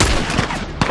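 Gunfire in The Last of Us comes as three loud, close shots in quick succession, each a sharp crack over a heavy game background.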